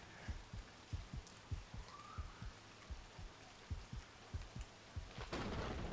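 Storm ambience in a horror video game set in a hospital: a steady patter of rain with low, rhythmic thuds recurring about every half second, and a heavier burst of noise near the end.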